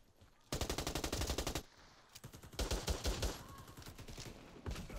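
Automatic SA Hellion fire in the shooter game Warface, loud rapid bursts of gunshots, one long burst, a pause, then another sustained burst and a short final volley.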